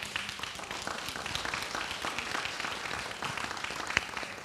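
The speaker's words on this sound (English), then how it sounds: "So please give my team another round of applause for them." An audience at the Cannadelic event in St. Pete, Florida, gives a round of applause for a wellness and therapy team, a steady, moderately quiet patter of many hands clapping without letting up.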